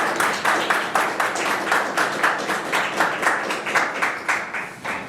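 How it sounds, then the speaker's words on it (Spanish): An audience claps steadily, a dense wash of applause from many hands, sustained without pause. "Así que sin más, Ricardo, te recibimos con un fuerte aplauso y te agradecemos por estar aquí."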